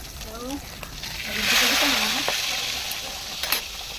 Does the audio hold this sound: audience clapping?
no